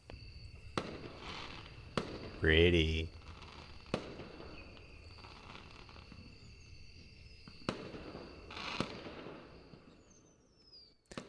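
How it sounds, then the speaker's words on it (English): Fireworks rockets in a night sky within the video game AWSW, heard as sharp, scattered bangs and crackles spread through the scene, some near and some distant, with a short voiced word partway through. "Soon I heard the sound of the first rocket making its way to the night sky, after which it exploded in a pattern of colors."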